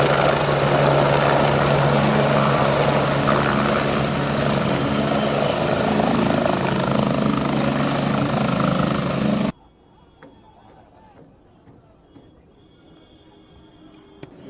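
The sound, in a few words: helicopter arriving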